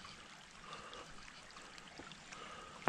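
A small winter stream trickles and gurgles faintly and steadily, with a brief louder splash at the very end.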